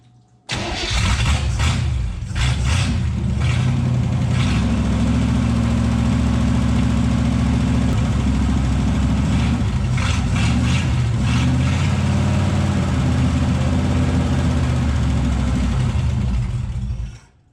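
A 1967 Chevrolet Impala V8, abandoned for sixteen years, catches and settles into a loud, steady idle after fuel priming, a continuous rumbling engine drone that runs close up and alone from start to finish.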